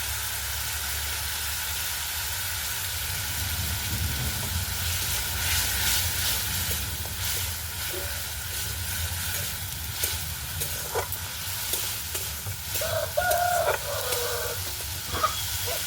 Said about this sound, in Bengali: টমেটোকে একটু ভেজে নেব। দেব হলুদ গুঁড়ো,